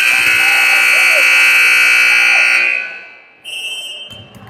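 A loud, sustained electronic buzzer blares at a varsity volleyball game between Dixon and Plato, holding steady for nearly three seconds before cutting off, followed by a short bright tone amid faint gym noise.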